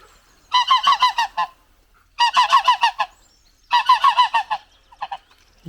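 Geese honking by a farm pond, loud nearby calls in three rapid bursts of repeated honks, then a short final pair, with no talking.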